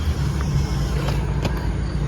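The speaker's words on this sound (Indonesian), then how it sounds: "Aya mobil" A car's engine rumbles steadily close by, a low continuous drone with a faint passing whoosh, no voices over it.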